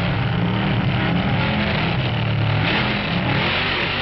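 Vintage hot rod drag racers roaring off the starting line, a loud continuous engine roar with rising revs that holds steady, with no talk over it.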